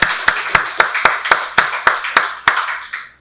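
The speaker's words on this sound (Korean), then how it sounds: "박수로 하나님께 영광 돌리겠습니다." Church congregation at a Sunday worship service clapping in unison, about a dozen sharp, evenly spaced claps in a steady rhythm, loud and close, stopping cleanly after a few seconds.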